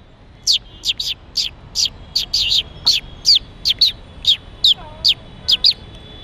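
A person imitates a sparrow's chirping with a quick series of about sixteen short, bright chirps in irregular pairs and clusters, close and clear against a quiet background.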